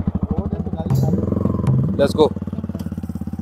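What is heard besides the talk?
motorcycle being filmed for a bike shot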